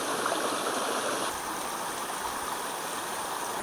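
A quiet, fast-flowing stream in the Borneo forest rushes steadily, a continuous close wash of water with nothing else in the foreground.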